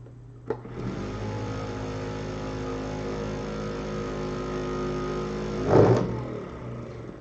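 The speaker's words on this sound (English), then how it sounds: "Is that vortex too loud?" A vortex mixer shaking a miniature paint bottle hums at a steady pitch for about five seconds. It starts with a click and ends with a louder rattle as the bottle is lifted away, with no talk.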